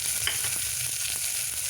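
Cauliflower pieces frying with onion in hot oil, a continuous dense sizzle with faint stirring scrapes, close and steady throughout.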